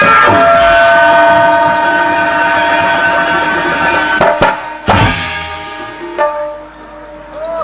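A train pulls away and picks up speed, its horn blaring loudly and steadily before breaking into shorter blasts, with rumbling wagons and clattering wheels underneath and faint voices in the mix.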